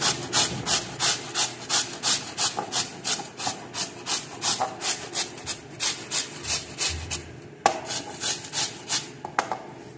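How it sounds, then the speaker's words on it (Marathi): Rhythmic rasping strokes of beetroot being grated, steady back-and-forth scrapes repeating about twice a second, close and alone with no talking. "बीट किसून घ्यायचे।"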